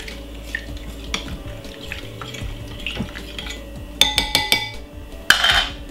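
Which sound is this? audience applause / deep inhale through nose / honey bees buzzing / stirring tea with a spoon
stirring tea with a spoon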